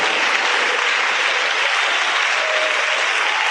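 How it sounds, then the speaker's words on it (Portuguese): A church congregation claps loudly and steadily throughout, a dense, even wash of applause with no pauses and no one speaking over it. "glorifique Ele com aquelas palmas bem bonitas, bem fortes, bem fervorosas"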